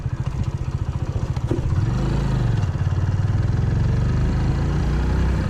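A Hero Splendor motorcycle engine idles close by with a steady low throbbing putter, briefly rising in pitch and then settling into an even, continuous idle.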